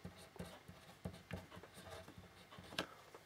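A pen scratches out a short bracketed algebra expression by hand, quiet, close strokes coming in quick irregular bursts with brief pauses between marks.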